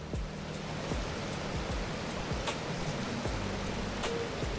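River water rushes steadily through the Black Canyon of the Gunnison, making a loud and constant broadband roar. It is heard close up from the water's edge, with no voices over it.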